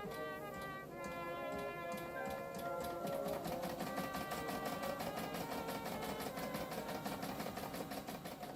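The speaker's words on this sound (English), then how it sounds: "Meanwhile, Savannah was busy testing out stars on the embroidery machine." An embroidery machine stitching star designs runs steadily and fairly loud, a fast, even mechanical needle chatter with regular ticking pulses that holds without pause, and no one speaks.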